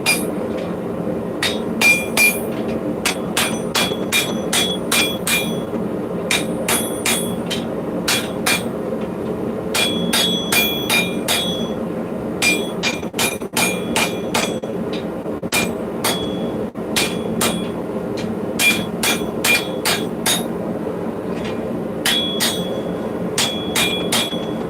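A hammer striking hot steel on an anvil while forging a European longsword, ringing metallic blows repeated in quick, steady rhythmic bursts with brief pauses between runs, loud and close throughout.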